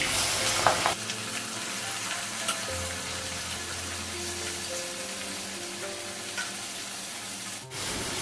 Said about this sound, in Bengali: ভাজা হয়ে গেছে মশলাগুলো